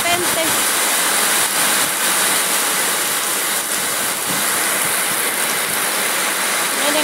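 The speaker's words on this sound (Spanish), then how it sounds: "Está lloviendo muy fuerte, fuerte." Heavy rain pouring down hard, a loud, dense, unbroken roar close to the microphone, with faint voices faintly under it.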